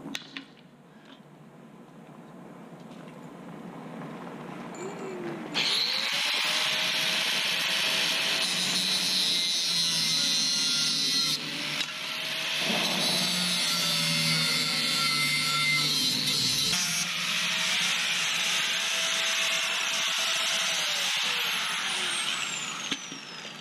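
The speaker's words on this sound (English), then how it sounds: "Just grind that shit flat." A power tool grinds metal flat in long, loud, steady passes with a high whine, pausing briefly between stretches of grinding.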